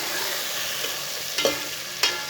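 Boiled white chickpeas stirred in a frying pan, a soft steady sizzle with two or three sharper scraping clicks of the spoon near the end.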